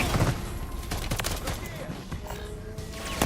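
Rapid bursts of video game shooter gunfire crackle continuously from several directions, dense and close, mixed with other game noise.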